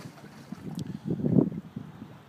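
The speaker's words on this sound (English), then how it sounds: "Here's a nice shot of Falmouth Harbor at the end of the day." Quiet Falmouth Harbor at the end of a cold January day, around 39 to 40 degrees, with boats on the water: a faint, steady low rumble of wind and lapping water, swelling gently midway, with no voices.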